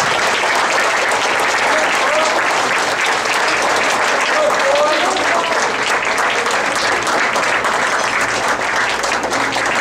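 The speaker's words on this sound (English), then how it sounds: "with a nice round of applause, thank them." A crowd at a youth soccer club awards dinner applauds steadily for the whole stretch, a dense, even clatter of many hands clapping together.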